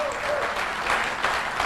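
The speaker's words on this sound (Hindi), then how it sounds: "उस शख्स के लिए तालियां बजा सकते हैं।" A crowd at a motivational Amway seminar breaks into brief, full applause, a dense burst of clapping with a few louder swells, and a faint voice sounds briefly at the start.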